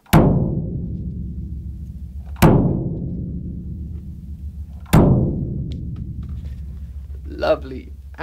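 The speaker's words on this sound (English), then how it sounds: "I'm using my concept bass drum, my Grand Casa, which sounds something like this." A concert bass drum (Grand Casa) struck three times at slow, even intervals, each hit a deep boom with a long, ringing decay, fairly loud, followed by a short spoken word at the end.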